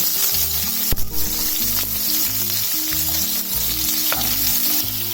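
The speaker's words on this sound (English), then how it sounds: "With that, I'm going to add a lot of onions." Fried urad dal, garlic and two red chilies crackle loudly in hot oil for mor kuzhambu, then a load of onions joins in, producing a dense, continuous sizzle with a few sharp clatters and stirring sounds, close and without speech.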